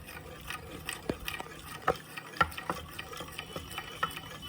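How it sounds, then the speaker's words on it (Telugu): Cornflour mixture for Bombay Karachi halwa being whisked in a bowl, giving soft repeated stirring scrapes and taps at close range with no talk. "ఇలా ఒక విస్కర్తో కానీ లేదంటే ఏదన్నా గరిటతో కానీ కలుపుకుంటే మనకి బాగా కలిసిపోతుంది"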